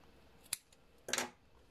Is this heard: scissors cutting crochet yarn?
yes